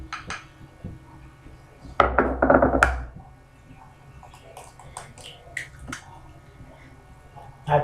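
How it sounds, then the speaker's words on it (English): A single egg cracked against a bowl rim at home, a sharp tap followed by a brief crunchy crackle of shell, then quieter small clinks and handling sounds in a still room. "I'm going to crack an egg"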